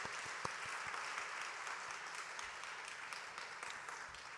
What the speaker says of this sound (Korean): 하나님께 다시 한번 영광의 박수 올려주시기를 바랍니다